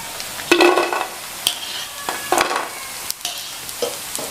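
Rava pakoda frying in hot oil as the pieces are turned, a bright continuous sizzle broken by several scraping stir strokes, close and loud with no talking.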